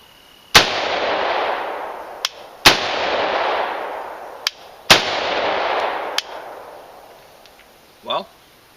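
A rifle fired three times outdoors, each sharp crack followed by a long rolling echo, plus a fainter distant report; loud and close, with no voices over the shots.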